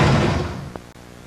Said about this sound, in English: we will have to kick the door down